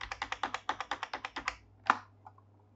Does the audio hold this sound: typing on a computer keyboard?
yes